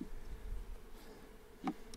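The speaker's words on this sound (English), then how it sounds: "We got a lot of bees in this one." Honeybees buzz around a crowded hive, a soft, low steady hum with a couple of brief louder buzzes as single bees pass close by. The sound is faint and stays in the background, with no talk.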